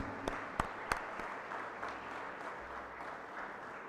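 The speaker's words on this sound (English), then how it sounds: "Loud applause, please." An audience at a BAPS talk event applauds, opening with a few sharp, distinct claps and settling into steady, moderately loud clapping from a crowd in a hall.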